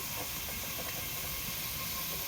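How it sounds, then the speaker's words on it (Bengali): Potatoes frying in oil in a pan, a steady sizzling hiss throughout, close and continuous with no talking. "আলুটা লাল লাল করে ভেজে নেব"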